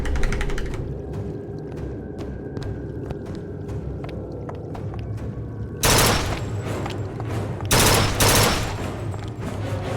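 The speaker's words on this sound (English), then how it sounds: "Machine gun?" Machine gun fire in the Bioshock Infinite video game: scattered single shots at first, then two loud sustained bursts of rapid automatic fire with booming echoes.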